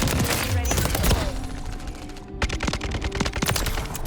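An AK rifle fitted with a conversion kit fires in Call of Duty MW3, loud rapid bursts of automatic gunfire crackling close up, with a brief pause midway before the shots resume.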